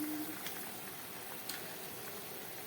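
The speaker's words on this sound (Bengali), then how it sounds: "মাছের ঝোলটা ফুটে উঠেছে" Fish curry with vegetables and tomato bubbling steadily in a pot, a dense continuous simmer with a few brief pops, close and moderately loud with no talk.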